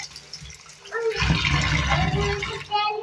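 Shelled prawns with heads and tails removed are rinsed under running water, a steady splashing gush that swells after the first second and cuts off briefly near the end.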